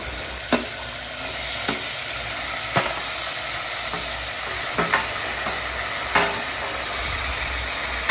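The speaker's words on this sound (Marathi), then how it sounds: "आता मी जे मॅरिनेट केलेलं मटण होतं ते यात टाकते शिजण्यासाठी" Marinated mutton fries in a pan over a fast gas flame, giving a steady loud sizzle. A few distinct clinks and scrapes are heard as the meat is stirred, and no one speaks.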